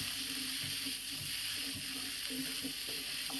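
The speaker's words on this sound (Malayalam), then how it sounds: "സോട്ട് ചെയ്ത് കൊടുക്കാം." Corn kernels sauté in butter in a pan, giving a soft, steady sizzle with light scraping and stirring clatter throughout.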